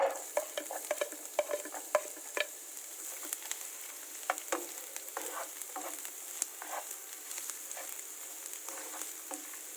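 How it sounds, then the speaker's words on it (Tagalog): Beef sautéing in oil and butter in a pan for low-budget nachos, a soft sizzle with irregular stirring taps and scrapes, faint and close. "Tayo po ngayon ay maggigisa."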